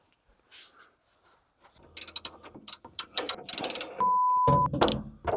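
Hand ratchet snugging the last bolt during a table saw blade alignment, a burst of rapid clicking pawl strokes in uneven spurts, close and fairly loud, with a steady whine partway through.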